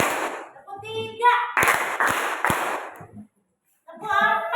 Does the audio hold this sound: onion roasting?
no